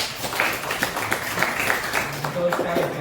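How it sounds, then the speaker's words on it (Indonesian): Classroom applause breaks out as a scatter of uneven claps, moderately close, layered with a teacher's voice and chatter from students. "Oke, kita kasih tepuk tangan untuk teman-teman kita."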